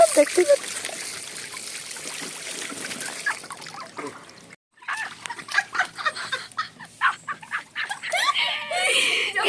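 Water trickles and splashes into a small pool set up for a pet quail, a light running patter with bird clucks mixed in, and a voice talking over it after a short pause.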